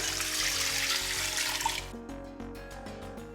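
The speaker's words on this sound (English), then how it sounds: "And then we're gonna add water." Water gushes steadily from a tap into a stock pot for a couple of seconds, then cuts off, leaving faint drips and a ringing hum.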